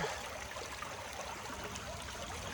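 Water runs steadily through a Keen Engineering river sluice set in a small dam of classified tailings at a stream, a soft, even rushing wash with no breaks.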